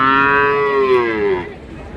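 A single long, loud cow moo, close by at a cattle market in Gadag, drawn out and then trailing off into quiet.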